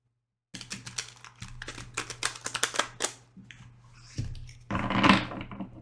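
A deck of tarot cards is shuffled by hand in close, rapid bursts of riffling and flicking, with brief pauses between passes over a low steady hum.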